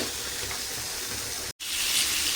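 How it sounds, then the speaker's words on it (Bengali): Pointed gourd (potol) sizzles steadily as it fries in oil in a pan, a continuous broadband crackle with no talking, broken by one brief silent gap before the frying noise resumes slightly louder. "পটলটা একটু ভেজে নিচ্ছি।"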